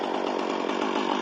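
A defective brand-new Husqvarna chainsaw runs with its choke all the way in, giving a loud, continuous, buzzing two-stroke drone up close for a brief moment.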